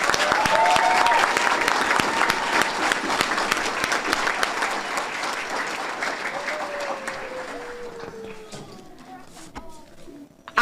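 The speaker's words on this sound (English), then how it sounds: "Give them a round of applause." Sustained audience applause for award recipients at a school board of education meeting, loud and dense at first, then thinning and fading toward the end with a faint voice appearing.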